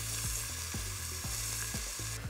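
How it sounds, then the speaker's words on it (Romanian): Olive oil heating in a pan gives a steady, moderately quiet sizzle, with soft regular scraping or stirring strokes about every half second and no talking. "Ulei de măsline. Încingem uleiul,"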